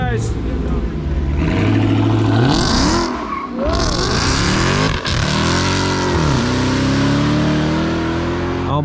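A Dodge SRT accelerates hard away on gravel at a summer car cruise, its loud engine rising and falling through revs as the tires slip. The car stays close and dominant, with voices talking over it.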